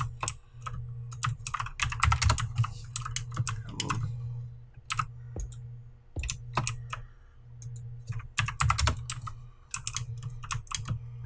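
Computer keyboard tapped in uneven bursts of quick clicks, close and fairly quiet, with short pauses between runs and a low background hum.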